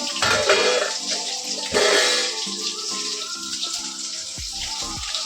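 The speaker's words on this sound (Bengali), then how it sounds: "আমার কলে জল আছে" Water runs from a kitchen tap in a home kitchen, a fairly loud steady rushing stream with splashing surges near the start and around two seconds, then settling into a continuous flow alone.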